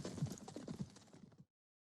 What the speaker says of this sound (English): Zorro's horse is very fast.